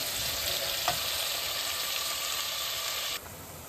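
Chopped onion and garlic fry in hot oil for fried couscous, a steady close sizzle and crackle with a brief stir knock, the hiss dropping slightly near the end.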